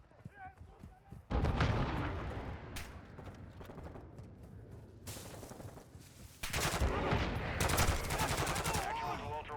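Missile launch and impact in a military shooter video game, loud bursts of gunfire-like blasts with a big jump in level near 1.3 s and another around 6.5 s, dense crackling and rumble under a voice talking.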